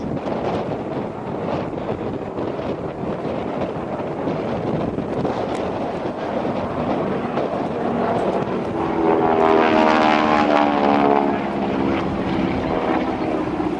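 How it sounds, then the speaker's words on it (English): A North American Aviation propeller trainer, the Pilot Maker, roars through airshow maneuvers at NAS Oceana, a continuous engine drone under wind buffeting that swells louder and more tonal toward the end. "This aircraft was known as the Pilot Maker. It was manufactured by North American Aviation."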